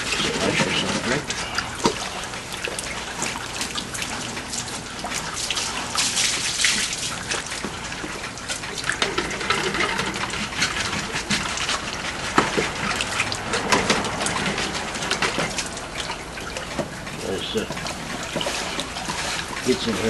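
Water rushes steadily through a backyard highbanker sluice, a continuous bright splashing trickle close by, with people talking over it throughout.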